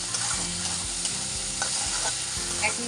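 Turmeric and spices stir-frying in a pan for a Bengali bele fish curry, a steady close sizzle with repeated scraping stirs of a spatula, no talking.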